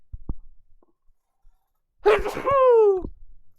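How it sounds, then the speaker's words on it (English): After a few soft clicks and silence, one loud sneeze bursts out, ending in a drawn-out falling vocal tail. "I'm about to sneeze, so give me a moment."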